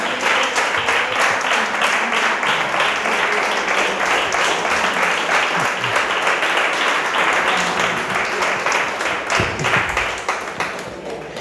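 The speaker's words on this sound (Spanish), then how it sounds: "Dale un aplauso al Señor" Sustained applause from a church congregation, rapid clapping that holds steady for several seconds and then starts to taper slightly at the end.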